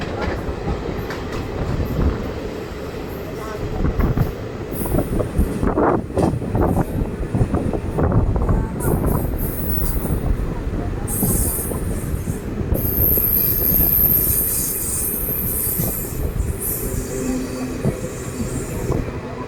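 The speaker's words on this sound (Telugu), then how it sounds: "మొత్తం డోర్నకల్ జంక్షన్ అయితే చేరుకుంది మన ట్రైన్" The Sai Nagar Shirdi Express rolls into Dornakal junction, its wheels rumbling and clattering steadily with sharp squeals of braking wheels, loud and close throughout.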